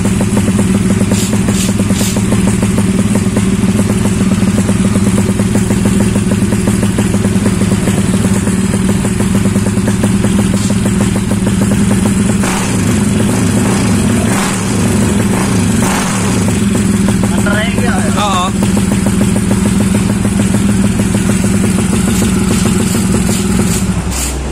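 A Yamaha X-Ride 200 motorcycle engine runs loud and close, holding a strong buzzing idle with repeated revs and some mechanical clatter, steady throughout with no voices.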